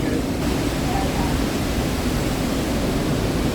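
Niagara Falls up close, a dense, steady roar of crashing water that fills everything with broadband rushing noise, loud and unbroken throughout.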